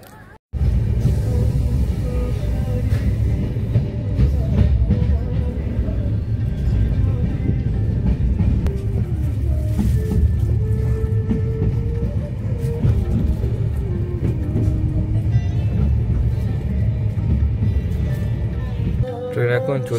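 Inside an S3 sleeper compartment of the Kanchan Kanya Express, the running train gives a steady loud rumble with rattling and clatter from the wheels. Passengers talk throughout.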